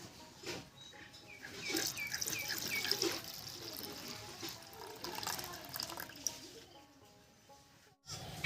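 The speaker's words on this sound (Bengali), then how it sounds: "ডালটা পরিষ্কার জল দিয়ে তিন চারবার করে ধুয়ে নিয়েছি" Masoor lentils are rinsed in clean water, with continuous swishing and splashing close up, a short break near the end, then a sharp splash.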